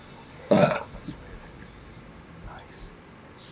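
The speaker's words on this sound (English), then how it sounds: "Got a John Smith's burp." A loud burp from a man after drinking John Smith's beer, one short guttural belch near the mic, followed by quiet room sound.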